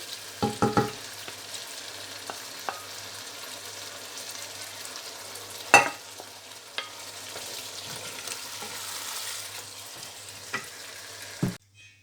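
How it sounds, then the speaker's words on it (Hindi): Spinach sautéing in a pan for a dhaba-style palak chana dal: a soft, continuous frying hiss broken by a few sharp clinks and scrapes of stirring, ending in a sudden clatter, with no talking. "अब हम पालक जो ये है डाल देंगे। अब इसको भूनेंगे।"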